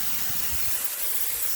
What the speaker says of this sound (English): As long as you spray it and you get enough of glue, you can't make a mistake.